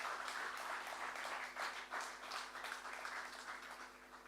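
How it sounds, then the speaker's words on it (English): Steady, moderately distant applause from a conference audience at an African economic report launch, dense clapping that swells and eases without voices over it. "kindly give Dr. Additioner and Professor Kevin Urama a joint round of applause"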